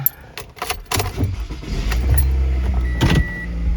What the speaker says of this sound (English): I'm gonna park the car in the garage, let it sit overnight